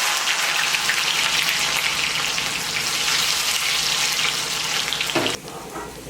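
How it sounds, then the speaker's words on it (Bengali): Chopped onion frying in oil in a wok gives a loud, steady sizzle that runs without a break and dips slightly near the end as the food is stirred. No voices. "এই পেঁয়াজটা দিয়ে ভেজে তুলে নেব"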